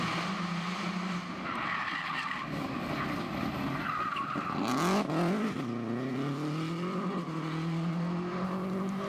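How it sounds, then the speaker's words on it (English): Rally car spinning out on a practice run, its engine droning and rising and falling in pitch with a sliding tire squeal in the middle, heard at moderate distance without talk. "He did not have a positive start, however, as he had an early spin in the practice run."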